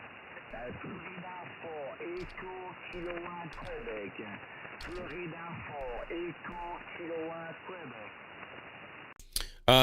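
Band-limited amateur radio audio full of overlapping, chirpy interfering voices and squeals, with sporadic clicks and a sharp burst at the end.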